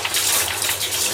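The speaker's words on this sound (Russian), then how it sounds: "О, пошла вода." Water gushes out of a household water filter system just after its filter cartridges are replaced, a steady close rushing hiss of flow with no voices.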